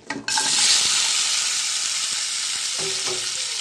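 Sudden loud hiss as onions hit hot oil, settling into a strong, steady sizzle with a couple of light utensil taps; no one speaks.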